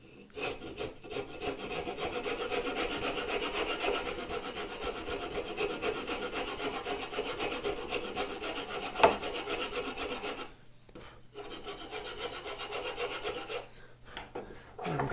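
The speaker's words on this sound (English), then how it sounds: "But a rasp, if it's a good rasp, will do the work for you." Wood rasp carving a wooden one-hand book holder, continuous close scraping strokes with a rough rasping texture, a brief pause near the middle, then rasping resumes, fairly quiet.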